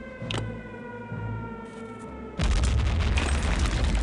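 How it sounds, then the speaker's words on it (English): A grenade blast in the Return to Castle Wolfenstein video game: a sudden loud, dense boom hits partway through and keeps roaring over a steady tonal game hum that was playing before it. "let's grenade him out of there"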